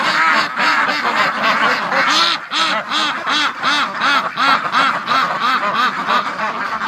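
A crowd of ducks in a barn quacking loudly and constantly, overlapping calls in a dense, rapid chorus close by.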